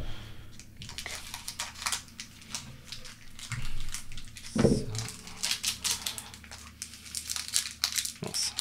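Dragon Ball Super Card Game B17 Ultimate Squad booster packs are torn open, with nearby crinkling and tearing of foil wrappers in repeated bursts. One sharper rip stands out near the middle.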